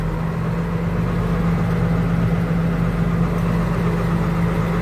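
A tractor engine idles steadily at close range while the mower hitch is raised to full height, a continuous low rumble with a strong steady hum and no speech.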